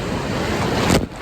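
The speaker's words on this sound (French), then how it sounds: "Cette plage, les vagues, elles sont violentes." Violent surf crashing on a Guadeloupe beach, a loud roaring rush of breaking waves with a heavier surge near the end, buffeted by strong wind noise on the microphone.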